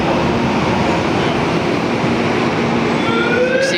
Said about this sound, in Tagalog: Ay parating na po na train.